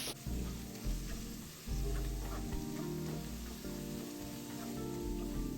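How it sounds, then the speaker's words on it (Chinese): Sliced shallots and 40 g of minced garlic fry in hot oil with a continuous, dense crackling sizzle, with occasional stirring, close up and without talk. "再将蒜末加入，一样40克，继续油爆葱蒜，直到金黄酥脆"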